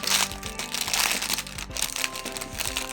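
Crinkling packaging on a handmade advent calendar gift, a small Christmas-tree present, being opened: continuous close crackling and rustling of wrapping with sharp crunchy bursts throughout, no voices.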